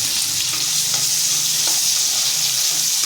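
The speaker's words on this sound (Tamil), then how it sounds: "இப்போ சின்ன வெங்காயமும் பூண்டும் அதுவும் கூட சேர்ந்து அப்படியே வதக்கிக்கிட்டு இருக்கோம்" Shallots and garlic sautéing in a pan for a broccoli gravy, giving a steady, close hiss of frying with faint stirring clicks, with no talk over it.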